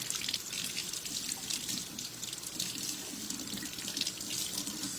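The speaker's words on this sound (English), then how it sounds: "then I rinse this part really good" Kitchen tap water running steadily into a sink while a chili pepper is rinsed under it, a constant close hiss and splash with no talking.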